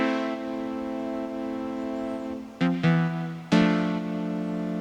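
A sustained, bright, harmonically rich synth chord from an amateur pop cover production holds steadily, then a few sharp re-struck chords ring out in quick succession before it settles back, with no voices.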